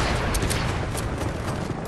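Quad launcher rockets firing in a Fortnite match: a dense, continuous barrage of blasts and explosions with no gaps, loud and close throughout.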